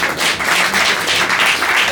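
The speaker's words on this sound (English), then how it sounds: "I hope they will get a big applause" An audience applauds performers on stage at a storytelling evening of the RefuFest festival, a dense, steady wash of clapping that stays loud and even throughout.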